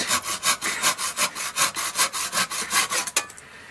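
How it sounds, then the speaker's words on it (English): A hand saw cuts through a pyracantha branch in a garden, a steady run of about fourteen rhythmic rasping strokes, close and loud, ending with a sharp snap as the piece gives way. "to stabilise it while I saw it"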